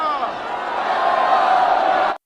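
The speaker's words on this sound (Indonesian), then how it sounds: "sorak gembira" A crowd of Maya tribe members cheering joyfully for a ceremony leader, a dense, loud burst of massed voices and whoops sustained for about two seconds before cutting off abruptly.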